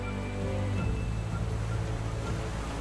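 Ocean waves in the survival game Raft, a steady loud wash of surf and wind rolling continuously through the whole stretch, with no pauses and no one speaking.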